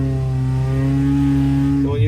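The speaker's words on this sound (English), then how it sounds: "Engine sounds lovely, mate. I like that exhaust system." A car engine with a custom exhaust system drones steadily at a held rev, loud and close, then the pitch rises sharply as it revs near the end.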